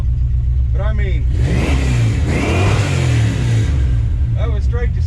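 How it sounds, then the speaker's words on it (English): A 1970 Plymouth Duster 340 race car with a stock cam revs loudly up close, its engine note rising and falling in strong sweeps, with people talking over it. "the engine kind of sounds like it's at 1500 right now"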